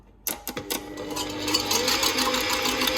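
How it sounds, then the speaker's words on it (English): An electric whisk beats egg whites for a lemon meringue pie, starting with a few quick bursts before settling into a steady high whirring buzz with a rattling edge close by. "we need to whisk up these egg whites until they form sort of soft-ish peaks"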